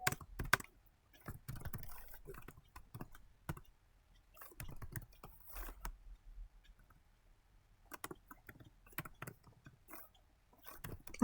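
Someone types code on a computer keyboard with quiet, irregular clusters of key clicks separated by short pauses. The typing is close and soft, with no voices.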